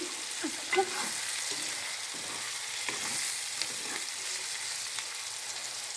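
Food frying in a pan gives a continuous bright sizzle up close, broken by occasional light stirring clicks and scrapes, with no voices.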